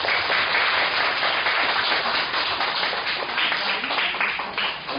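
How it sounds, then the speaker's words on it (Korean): A church congregation at an Easter Sunday service bursts into sustained applause, many hands clapping densely and steadily, close and full, easing slightly toward the end. "박수."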